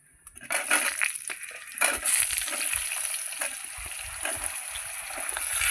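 Potatoes and flat beans drop into hot oil seasoned with dried chili and whole cumin, setting off a steady, close sizzle with scattered crackles and stirring scrapes that continue without pause.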